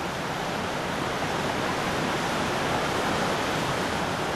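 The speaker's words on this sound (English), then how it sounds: "yesterday's downpour has turned the scrong into a raging torrent" A river swollen by heavy rain rushes past as a raging flood torrent, a loud, unbroken roar of churning water that stays constant throughout.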